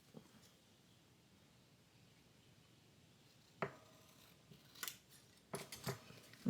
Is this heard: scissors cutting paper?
yes